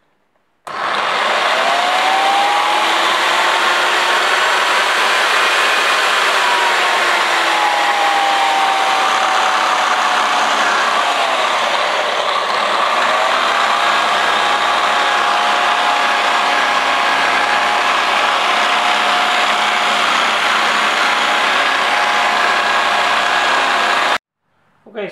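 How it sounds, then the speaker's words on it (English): An electric polishing machine works on motorcycle rear shock parts from a Honda Bros NT400, giving a loud, steady whine that starts abruptly, drifts slightly in pitch as the load changes for about twenty-four seconds, then cuts off. "I'm going to try and polish them out. So I have a machine for that."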